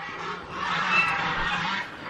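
A group of geese honks loudly and continuously at close range, their calls overlapping into a steady, noisy chorus for about two seconds.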